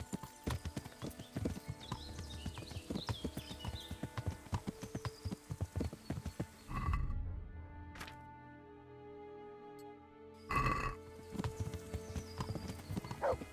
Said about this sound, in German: Hanus, wollen wir nicht was schneller reiten?